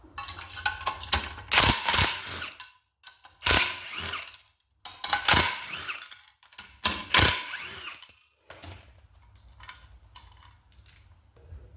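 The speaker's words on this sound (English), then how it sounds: "Blades are held on with a 17mm nut and bolt, so we're going to rattle off the 17mm" Ratchet wrench loosening 17mm blade nuts on a Honda HRU196 lawn mower, several quick bursts of rapid clicking separated by pauses, close-up and clear, with faint handling noises between strokes.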